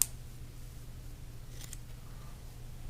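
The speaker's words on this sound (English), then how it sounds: "I'll come in with a pair of scissors, and I'll make everything even." A pair of scissors trims a rubber fishing jig skirt with two quick, faint snips close by, in a quiet room.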